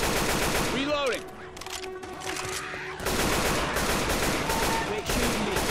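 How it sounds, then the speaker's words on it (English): Rapid bursts of gunfire in the Left 4 Dead 2 video game, loud and continuous with overlapping shots, while players talk over the shooting. "Quit shooting me."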